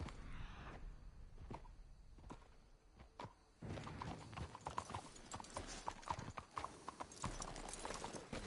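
Horses' hooves clip-clop in the Western video game Red Dead Redemption 2, a few sparse hoof strikes at first, then a busier, louder run of overlapping steps with some rustling, close by and without talk.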